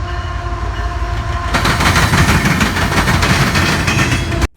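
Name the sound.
CN 3015 locomotive train passing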